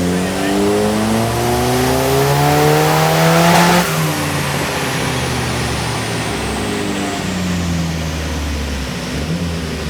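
Big block engine revving hard on a dyno, a loud climbing roar with rising pitch that peaks, then drops back to a lower sustained drone.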